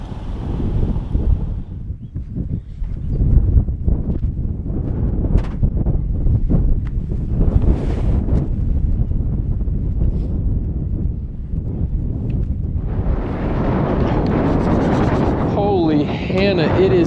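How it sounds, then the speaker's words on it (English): Strong wind blowing outdoors at a trout fishing spot near a road with cattle, a loud continuous roar buffeting the microphone, with a person talking over it. "it is a windy one today"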